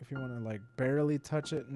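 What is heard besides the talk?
No distinct noise like a dog, phone or traffic.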